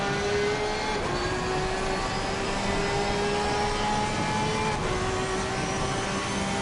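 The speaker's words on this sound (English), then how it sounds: "That Porsche sounds absolutely fantastic" A Porsche race car engine in a racing game at Suzuka holds a sustained, tonal high-revving drone, shifting pitch slightly around gear changes, loud and continuous with no talk over it.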